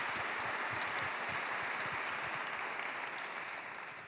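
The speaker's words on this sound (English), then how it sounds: "give a big applause to my team" Dense, continuous applause from a large audience at the closing of a climate summit, heard alone as a steady wash of clapping that fades slightly toward the end.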